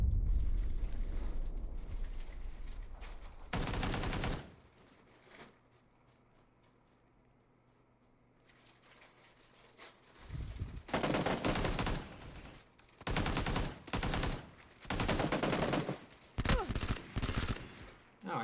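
Bursts of video game gunfire in a crowded multiplayer shooter match, loud sharp volleys recurring in clusters through the second half after a quieter stretch, with a faint voice briefly under the action.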